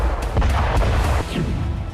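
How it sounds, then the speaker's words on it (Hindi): An Iskander missile blast with a 700 kg warhead destroys a command post in Kursk, Russia: a heavy, dense roar of explosive rumble with several sharp booms, loud and sustained throughout, no voices. "इस्कंदर मिसाइल के 700 किलो के विस्फोटक के ब्लास्ट से कमांड सेंटर तबाह हो गया।"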